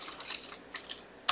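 Computer keyboard typing, a few scattered light key clicks followed by a sharper, louder keystroke near the end, quiet and close with no talking.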